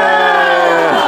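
A group at a birthday party lets out a short, loud burst of cheering and whooping, with voices held for about a second before trailing off, and little clapping evident.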